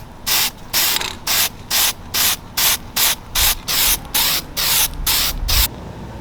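A spray can of high heat grill paint hisses in about a dozen short, loud, evenly spaced bursts as a Yamaha Bolt motorcycle part is coated, with brief pauses between each spray and no voices.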